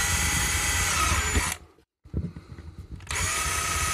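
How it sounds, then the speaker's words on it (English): A power drill bores into a 125A DC circuit breaker with a loud, steady whine, stops briefly for a second of near silence and a few clicks, then resumes at full strength. "Let's just start drilling."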